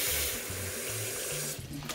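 Running water pours and splashes steadily through a sieve while rinsing rice, close by, with faint clinking and a low rumbling hum beneath.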